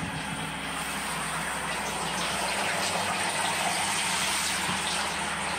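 Water gushes steadily into a bathtub while a domestic fox is bathed, a continuous close rush of pouring and splashing that fills the whole stretch without pause.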